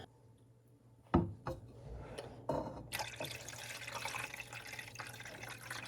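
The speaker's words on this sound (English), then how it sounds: "let's get some water and put in this outer pot" Water is poured into the outer pot of a double boiler while making a plantain and calendula salve. A few faint clinks come first, then a steady, close splashing pour fills the rest.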